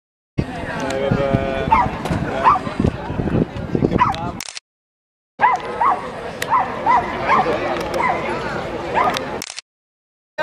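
Several dogs bark and yip excitedly, with whimpers mixed in, over two bursts separated by a short silence; voices are also audible.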